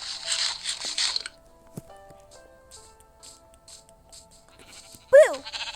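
Sheep in Minecraft bleat in short wavering calls, a cluster early on and one loud close bleat near the end, with quiet game clicks and sounds between and no speech.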